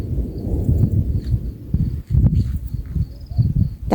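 Low, rolling thunder rumbles in irregular swells, loud and close at times with a brief lull midway, and faint insect-like chirps sit above it.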